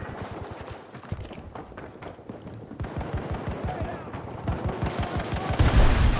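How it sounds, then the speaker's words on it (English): Hostile gunfire in Battlefield 2042 on a Conquest 1942 map, with rapid automatic bursts rattling steadily and building in loudness, under battlefield noise and speech. "I'm taking a lot of hostile fire."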